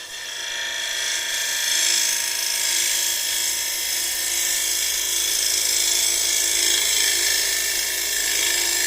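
Wood lathe spinning a bowl blank with a core left in the middle at increased speed, a bowl gouge cutting in a continuous high, hissing whine with steady tonal overtones, no talk.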